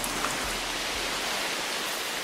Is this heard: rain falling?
yes